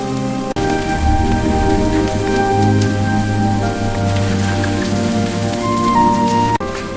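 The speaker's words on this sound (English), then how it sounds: "Wow, it's raining so hard!" Heavy rain pours down in a cozy Ghibli-style animated village, a loud, dense, steady hiss with faint tonal music beneath and no voices.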